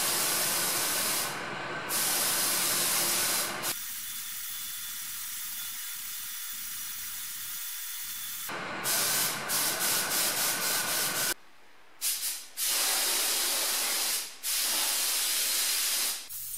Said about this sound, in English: I just love painting with a proper spray gun.